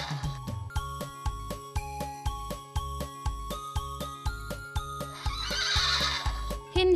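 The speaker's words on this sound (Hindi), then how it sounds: "हिन हिन करके नहीं मचल, चल मेरे घोड़े चल चल चल" In an animated Hindi nursery rhyme, a cartoon horse's hooves clip-clop in a steady even beat throughout while a bright musical backing plays, and a loud whinny rises near the end.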